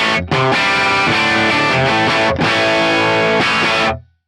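Heavily distorted electric guitar played through an Axe-Fx with the drive turned up past 5, sustained saturated chords in a few strummed phrases with brief gaps, then a quick cutoff.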